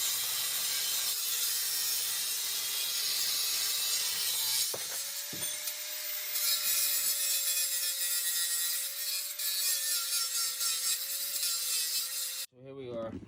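A saw cuts a slot into a part, giving a steady, faint rasping stroke sound that runs for about twelve seconds with a couple of sharp knocks partway through, then stops abruptly.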